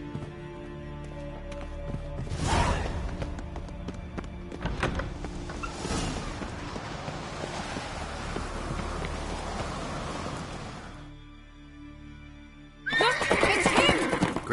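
A horse neighs loudly in The Witcher video game, with whinnies near the start and again near the end, while galloping hooves and rustling movement carry through the middle.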